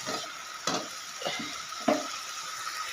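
Coconut and peanut brittle mixture being stirred with ghee in a pan, giving soft intermittent scraping taps and faint sizzling, with three or four distinct stir knocks over a steady low hiss.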